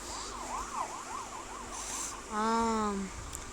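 Video game siren on a vehicle in a motorcycle and car hijacking scene, wailing up and down in repeated sweeping cycles, then a brief louder horn-like blare, over a steady engine and street background.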